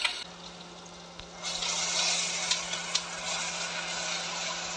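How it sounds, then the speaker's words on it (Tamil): Ginger, garlic and onion paste sautéing in oil in a pressure cooker, giving a soft, steady sizzle that rises after a quiet start and carries a few faint clicks. "அடுத்து குக்கரில் ஆயில் விட்டு அரைச்சி எடுத்து வச்சுருக்கிற இஞ்சி பூண்டு வெங்காயம் இது நல்லா வதங்கணும்."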